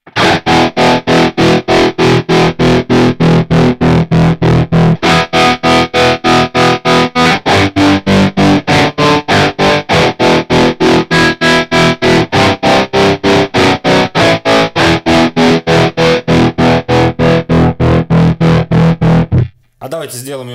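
A loud, distorted electric guitar is chopped by a Sentimental Bob Tacana Tremolo pedal on its sine waveform, giving a rapid, regular rise and fall in volume throughout until the playing cuts off near the end.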